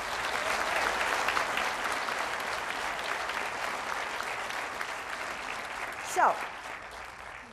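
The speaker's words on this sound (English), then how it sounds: "Let's begin with a big round of applause for them in advance." Sustained applause from an audience welcoming young participants at a heart health challenge event, steady clapping throughout with a brief louder burst near the end, and faint talk underneath.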